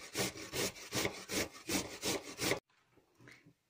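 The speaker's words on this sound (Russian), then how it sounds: "Огурцы тоже тру на крупную терку." Rhythmic rasping strokes of cucumber rubbed hard against a coarse grater, about ten quick passes, then it stops and a faint handling sound follows.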